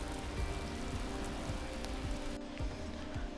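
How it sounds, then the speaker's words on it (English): Rain falls on the road near Telde on Gran Canaria during a solo bikepacking trip. It makes a dense, continuous patter with scattered heavier drop hits, close and steady, with no voices. "Just made it to Telde before the rain really started coming down."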